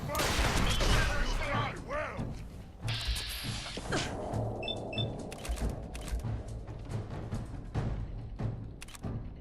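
Video game gunfire in a wasteland setting: bursts of loud shots and rapid fusillade crackle up close, mixed with mechanical clicks and clatter.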